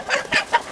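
A chicken clucks in a few quick, close, separate bursts.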